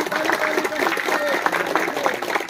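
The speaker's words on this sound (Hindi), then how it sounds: "ताली बजा दीजिए सब" Audience clapping at a family picnic, a steady wash of applause running throughout with voices and crowd noise mixed in.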